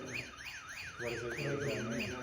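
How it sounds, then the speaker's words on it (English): A motion sensor alarm in an old Masonic temple and funeral home wails in a steady rising and falling electronic warble, repeating several times and sounding somewhat distant against faint room noise. "That's an alarm system, and I have it pointed there."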